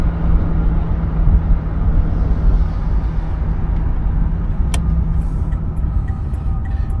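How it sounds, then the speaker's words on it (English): A 1971 Chevrolet Impala engine runs while driving, giving a loud, steady low rumble with road and cabin noise and one brief sharp click partway through. "Motor sounds good."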